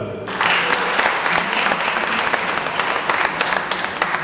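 An audience at an African cultural festival in Toulouse breaks into loud, dense clapping after a brief quiet start, sustained and even for the rest of the few seconds.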